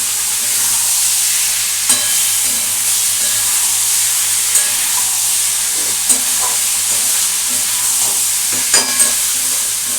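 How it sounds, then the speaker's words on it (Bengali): Spiced eggplant curry fries in a pan with a continuous loud sizzle, broken by occasional scraping clicks of a spoon stirring it every couple of seconds. "এটা একটু ভালো করে নাড়াবো।"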